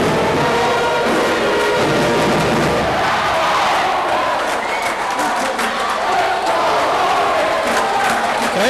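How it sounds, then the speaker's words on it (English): A crowd fills a high school basketball gym in Paintsville before tip-off, a loud, steady murmur of many voices with scattered shouts, continuous and close throughout. "we've got a good crowd here tonight"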